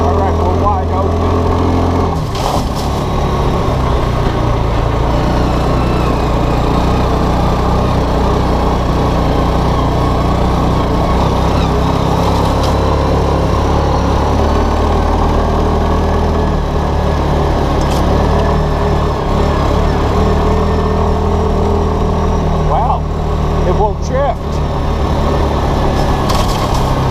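A Linhai Big Horn 400 4x4 ATV engine, one with an intermittent cranking and stalling fault, runs at wide open throttle as a loud, steady close drone for the whole stretch, with a few brief dips and faint speech mixed in.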